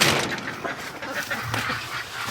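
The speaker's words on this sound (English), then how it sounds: "Okay, we got ducks in here." Muscovy ducks outdoors in winter give soft, breathy hisses and low grunting calls up close, repeating in short bursts with no talk over them.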